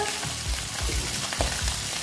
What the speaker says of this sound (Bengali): আমার মাছটা প্রায় ভাজা হয়ে গেছে